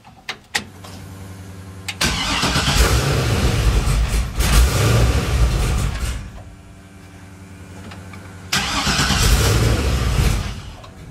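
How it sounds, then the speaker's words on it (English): A 1957 Chevy engine on a chilly day, about 55 degrees, with a few short clicks, then two long bursts of grinding starter cranking separated by a quieter lull, loud and close, with no voices. "Let's see if it'll crank without me hitting the gas."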